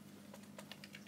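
Soft keyboard typing for an Xbox message, a short run of about half a dozen light, evenly spaced key taps, quiet and close, with no one talking.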